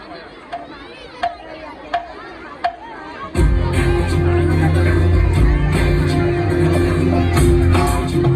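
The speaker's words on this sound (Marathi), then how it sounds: "त्यांच्यासाठी जोरदार टाळ्या होऊ." Applause for a school annual function stage performance: a few sharp isolated claps come first, then loud, sustained clapping and cheering from a crowd fills the hall.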